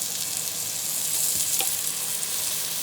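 Pork and garlic sizzle loudly and steadily in a hot pan, with a dense, constant frying hiss close by and no talking.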